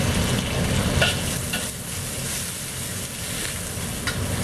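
Shrimp frying in a pan for Cantonese shrimp chow mein, a steady close sizzle with stirring scrapes and occasional sharper crackles, loud and continuous without talk.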